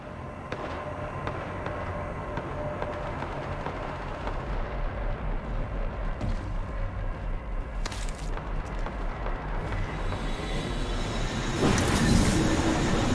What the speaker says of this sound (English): Hurry, the choo-choo train is moving.